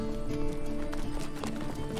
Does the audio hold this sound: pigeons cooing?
no